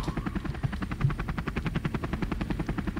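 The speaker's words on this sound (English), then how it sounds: "Helicopter." Helicopter rotor in the game Marble Blast, a rapid, steady thudding chop that pulses evenly and loudly throughout, with no other sounds over it.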